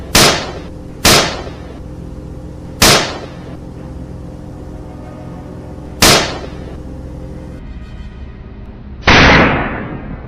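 Rifle gunshots during a wild boar hunt in a swamp: five sharp, loud cracks at irregular intervals, each with a short ringing tail, the last one a heavier, longer blast.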